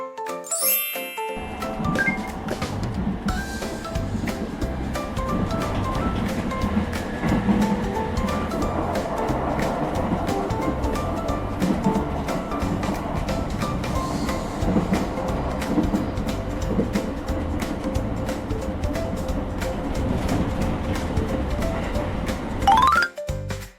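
An N-type electric train running through a railway level crossing, its wheels clattering loud and close over the rails for about twenty seconds while the crossing bell dings steadily beneath the rumble.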